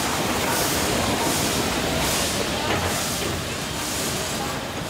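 A steam locomotive pulls into Pondicherry railway station in India, a loud continuous roar of hissing steam and rumbling train noise with faint rhythmic chuffing pulses throughout.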